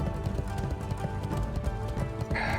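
Horse hooves clip-clop in quick, even rhythm as a mount trots along in World of Warcraft, close and steady, with a brief brighter chime near the end.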